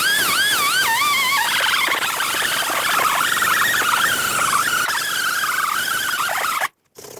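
A spinning abrasive disc cleans the rotor mating surface on the rear axle of a 1998-2011 Ford Ranger, whining up and down in pitch with a gritty scraping whir before it cuts off abruptly near the end.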